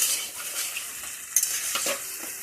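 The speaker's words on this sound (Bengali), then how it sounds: "তো আমি সবকিছু এভাবে দিয়ে কড়াইয়ের মধ্যে মিশিয়ে নিলাম আর কি" Spices being stirred and fried in oil in a kadai, a steady sizzle with scraping spoon strokes against the pan, close and continuous, with no voices.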